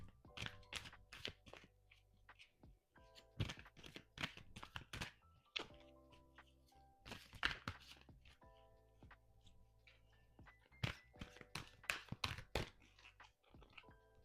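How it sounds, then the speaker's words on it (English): Tarot cards are shuffled by hand in quick rustling, clicking bursts with short pauses between them. The sound is faint and close, with no one speaking. "I'm going to give these a shuffle."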